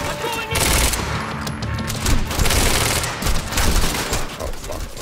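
Rapid gunfire in the action video game Quantum Break, dense bursts of shots and cracks rattling almost continuously, loud and close, with a player speaking briefly over the shooting.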